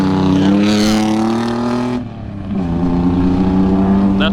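A drift truck's engine revs hard in the pits at a drift event, a loud, sustained harmonic roar that dips briefly midway and then climbs again, close by with no talk.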